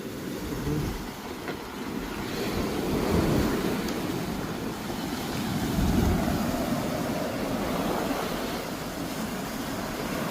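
Large storm waves surging against a shoreline, a steady loud roar of rushing, churning water with no voices.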